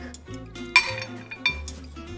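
A metal spoon clinks against a dish while someone eats pesto pasta, giving a few sharp, close clinks with quiet pauses between them.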